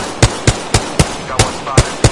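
Gunfire in Apex Legends: eight sharp, evenly spaced shots at a steady rhythm, each a loud crack with a low thump, with no talking between them.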